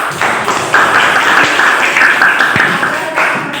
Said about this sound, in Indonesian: Tepuk tangan untuk Amra.